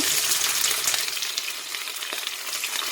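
Onion, sweet pepper, scallion and seasonings frying in oil in a pot, a steady close bright sizzle with crackling bursts throughout, no talking.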